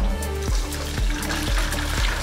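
Dirty water pumped through a sand trap filter on a test rig, a continuous close wash of flowing liquid over a droning pump with a steady throb pulsing about twice a second.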